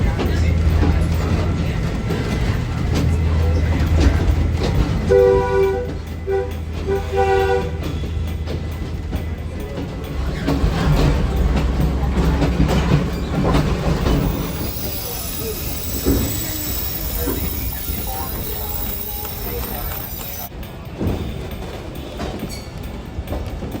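A heritage railroad museum train climbs a hill at the Rochester & Genesee Valley Railroad Museum, with a steady loud rumble and clatter of cars and wheels, a sustained horn-like tone partway through, and voices faint under the noise.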